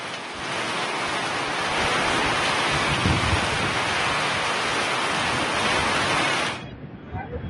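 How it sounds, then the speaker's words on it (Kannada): Heavy rain with hail in Gadag district, Karnataka, roars steadily as a dense, loud wash of noise, then cuts off abruptly near the end, leaving quieter background. "ಗದಗ ಜಿಲ್ಲೆಯ ಹಲವೆಡೆ ಇವತ್ತು ಆಲಿಕಲ್ಲು ಸಹಿತ ಭಾರೀ ಪ್ರಮಾಣದಲ್ಲಿ ಮಳೆಯಾಗಿದೆ"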